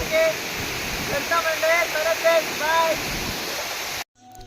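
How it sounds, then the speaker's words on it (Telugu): Heavy rain pours near a waterfall in a steady, dense hiss close by, with a voice talking over it; the sound cuts off abruptly near the end. "ఎక్కువ వర్షం పడిపోతుంది"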